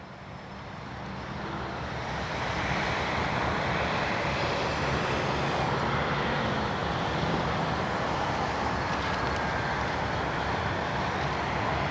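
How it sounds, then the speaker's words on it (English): A continuous high-pitched whine of a Kavan Bristell B23 RC model airplane motor in flight, mixed with steady wind rush, sustained and fairly loud throughout. "what a smooth as butter flying plane"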